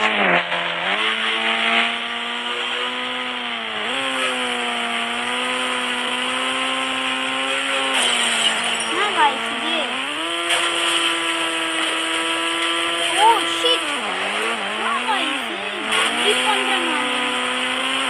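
A car engine from the Indian Bikes Driving 3D mobile game drones continuously with a buzzy, harmonic whine, pitch sliding up and down as the car speeds up and slows, loud and close throughout.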